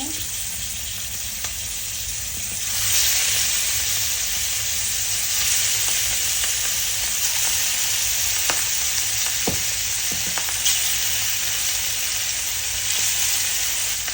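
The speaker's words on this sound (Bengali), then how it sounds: "তেলটা গরম হয়ে গেছে, আমি এখন মাছগুলো দিয়ে দিব।" Rohu fish frying in hot oil for a Bangladeshi tomato bhuna, a steady bright sizzle that swells louder after a few seconds as the pieces go into the pan, with faint stirring clinks and no talk.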